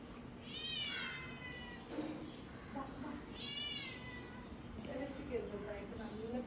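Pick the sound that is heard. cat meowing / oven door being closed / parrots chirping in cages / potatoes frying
cat meowing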